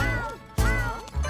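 Cartoon cat meowing in a children's farm song, a few loud, sustained, bending meows with short gaps between them, heard close and clear in the music.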